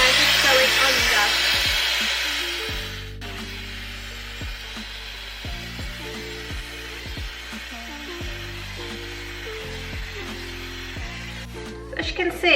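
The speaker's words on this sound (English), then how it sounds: "let's get the Dyson Airwrap on" A Dyson Airwrap hair styler blows a loud, airy whoosh while drying and curling hair, strongest in the first few seconds before fading low beneath steady background music.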